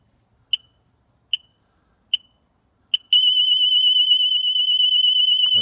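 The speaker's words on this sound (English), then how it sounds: "This alarm will keep going until somebody has put the PIN code in" A Husqvarna Automower robotic lawn mower's anti-theft alarm: four short, evenly spaced high beeps, then a loud continuous piercing alarm tone that sounds without pause until the end.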